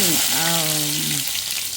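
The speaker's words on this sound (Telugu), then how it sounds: "ఆవాలు జీలకర్ర కరివేపాకు వేయించుకోవాలి" Mustard seeds, cumin and curry leaves sizzle in hot oil for a tempering, a constant close frying hiss with a short voice sounding over it.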